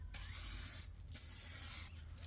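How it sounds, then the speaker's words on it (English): A spray can lays a very light first coat onto a Honda Accord headlight from about six inches away, heard as two close, loud, steady hissing bursts with a short pause between them. "I started off by spraying about 6 inches away from the headlight and made sure the first coat was very, very light."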